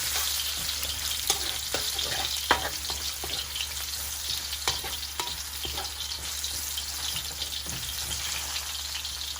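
Garlic sizzles in hot oil in a pan, giving a steady close crackle with occasional pops and stirring scrapes.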